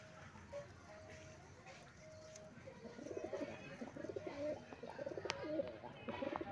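Pigeons coo softly in a home loft, repeated low throaty calls that grow busier in the second half, faint and somewhat distant amid quiet background noise.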